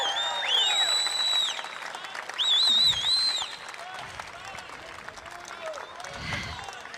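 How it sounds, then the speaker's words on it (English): A protest crowd applauds and cheers, with high whoops and whistles rising over the clapping before the noise gradually settles. "Give yourselves a big round of applause!"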